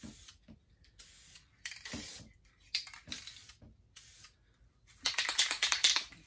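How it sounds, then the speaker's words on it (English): Several short hissing bursts of black spray paint applied to a motorcycle bobber part, close and separated by pauses, with a longer, louder burst near the end. "I'm going to spray it with black."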